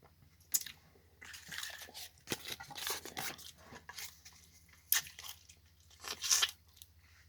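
Candy wax being chewed close up, with wet crunching bites and squishy mastication in irregular bursts, several sharp crunches standing out over quiet pauses.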